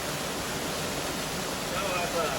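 A waterfall pours in a steady, dense rushing roar, close and continuous, with faint voices barely audible under the water.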